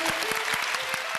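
A studio audience on a TV music-guessing game show claps in brief, dense, sustained applause.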